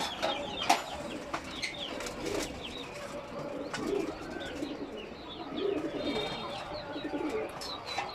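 Soft cooing of a racing pigeon repeats in low, rounded bursts, with occasional chirps and light background noise, moderately close.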